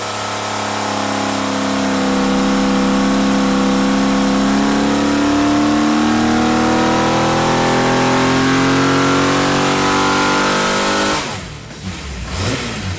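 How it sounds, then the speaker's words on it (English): A V12 engine in a Camaro revs up smoothly and holds a high, steady whine for several seconds, then drops off abruptly near the end. "The motor is very smooth because of running like two 6s."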